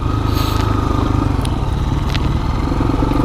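A 2020 Husqvarna FE350 dirt bike engine runs steadily and loudly close by, a continuous motor drone with faint scraping and clatter over it and no talking.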